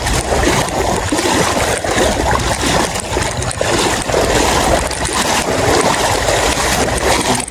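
Flood water churns and splashes as people wade through a flooded street during heavy rain, a steady close rushing and sloshing that runs the whole time without pause.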